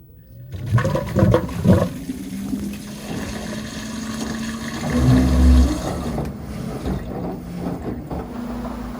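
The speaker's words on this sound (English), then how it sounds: "Drain pump has activated and pumping water out of the washing machine" An LG ThinQ washing machine's drain pump forces water out, a rushing, gurgling flow over a low pump hum that swells midway and holds steady for about nine seconds.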